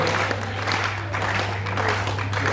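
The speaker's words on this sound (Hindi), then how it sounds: "कम से कम तालियां तो बजा दीजिए" Clapping fills a university hall during a Hindi poetry recital, a continuous, moderately loud patter of applause from the crowd over a constant low hum.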